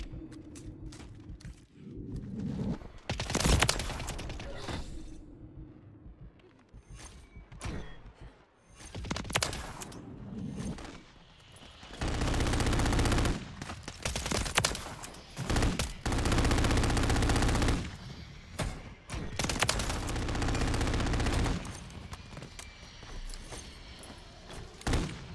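Automatic gunfire from a WSP 9 in Call of Duty MW3, loud bursts of rapid shots in several clusters with pauses between, plus occasional thumps.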